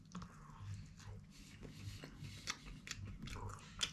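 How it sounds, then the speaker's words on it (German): Biting into a folded pizza pocket filled with pumpkin, cranberry, onions and bacon, a close crunchy bite followed by soft, continuous chewing with a few crisp crackles. "Und dann beißen wir da mal rein."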